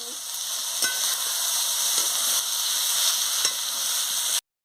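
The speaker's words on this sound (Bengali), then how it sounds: "দিয়ে মশলার সঙ্গে ভালো করে কষিয়ে নিচ্ছি" Young jackfruit and potatoes sizzle with spices in a pan for a jackfruit curry, a loud, continuous frying hiss with a few sharp ticks of stirring before it cuts off.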